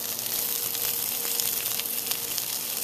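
A big, heavy piece of fish fries in a hot pan with a steady, close broadband sizzle that holds evenly throughout, with no talking.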